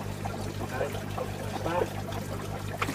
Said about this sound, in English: The water comes on.